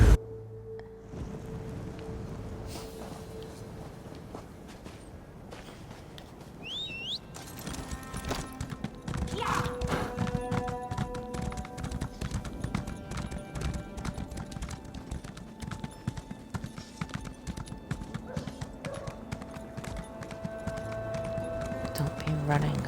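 Horse hooves clip-clop in a steady trotting rhythm from a mount in The Elder Scrolls Online, mixed with game ambience and music, near and moderately loud while a person talks over it.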